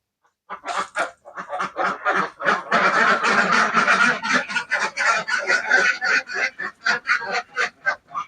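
A flock of farmed ducks on a duck farm quacks loudly and nonstop, many overlapping nasal calls close by, building into a dense chorus.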